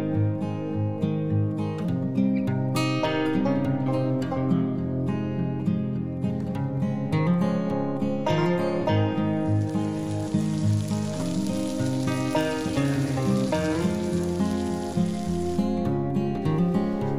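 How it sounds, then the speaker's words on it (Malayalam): Egg biryani masala gravy simmering and reducing in a pan, a steady close sizzle and bubbling that runs throughout with no talk. "ഇപ്പൊ ഗ്രേവി എല്ലാം നന്നായിട്ട് തിളച്ച് അതിന്റെ ചാറൊക്കെ നന്നായിട്ട് വറ്റി തുടങ്ങിയിട്ടുണ്ട്."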